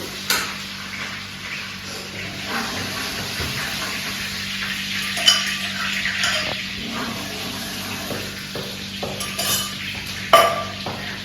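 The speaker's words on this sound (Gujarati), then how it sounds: "થોડું તેલ તો થઈ ગયું છે પહેલા આપણે એમાં નાખીએ છીએ આદુ અને ગાર્લિકની પેસ્ટ" Ginger-garlic paste frying in hot oil in a pan, a soft steady sizzle punctuated by sharp metallic clinks of a spoon stirring against the pot, heard close with no talk.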